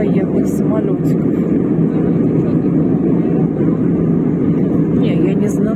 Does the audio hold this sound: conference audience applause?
no